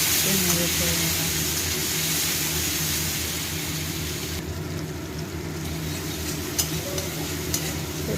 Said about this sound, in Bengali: এবার সেটাকে ভালো করে নেড়ে চেড়ে নিলাম।